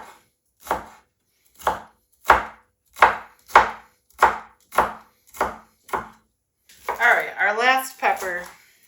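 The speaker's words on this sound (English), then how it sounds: "And then we will chop those strips into little dices." A knife chops strips of green pepper into small dice on a cutting board, making about ten crisp, evenly spaced thuds at a steady pace, followed by someone talking at the end.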